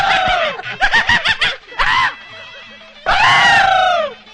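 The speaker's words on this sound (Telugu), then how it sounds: "వీడెందుకండి జురాసిక్ పార్క్ సినిమా చూసిన లెవెల్ అరుస్తున్నాడు?" A man screams loudly in several bursts: a rapid run of sharp yelps, a pause, then one long sustained wail, set in a family drama scene.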